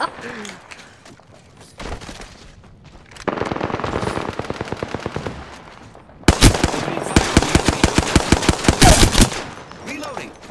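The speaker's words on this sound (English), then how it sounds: "The enemies are shooting at me." Enemy gunfire in a squad-based shooter video game: repeated bursts of rapid automatic fire, with a short burst early on and two loud, sustained volleys through the middle and latter half, and a voice talking at times.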